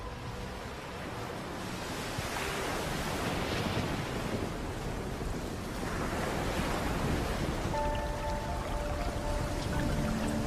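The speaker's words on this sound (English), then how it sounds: "Huge icebergs carve into a stormy and fast-rising ocean." Stormy ocean waves surge in a loud, continuous rushing roar that swells and recedes in broad washes, with wind noise and no voices.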